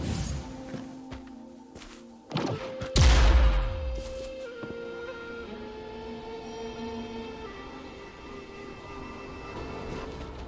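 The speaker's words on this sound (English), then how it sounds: "Perhaps we can create an opening in this disk with an explosion." A burst of tacitite fulminate detonates in the Wuthering Waves game, one sharp blast that swells and decays over a few seconds, followed by lingering ringing tones and a low rumble.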